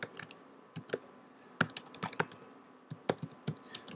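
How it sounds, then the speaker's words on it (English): Typing on a computer keyboard: quiet, irregular clusters of sharp key clicks with short pauses between bursts, close by and alone. "I'm going to type in old state cap"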